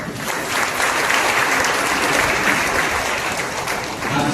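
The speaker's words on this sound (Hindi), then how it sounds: "हम प्रिय लोगों को स्वागत करेंगे ताली बजाकर।" A church congregation at an Easter Sunday service claps together to welcome visitors, a loud, dense, sustained round of applause filling the room with no talk over it.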